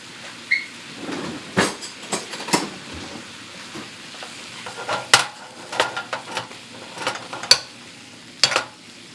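Apples cooking in a pan give a soft, low sizzle, broken by scattered sharp clinks and scrapes of a utensil stirring against the pan, some close and bright.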